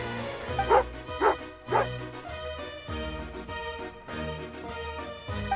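A dog in the Genshin Impact video game gives three quick barks near the start, then softer yips and whimpers continue over game background music.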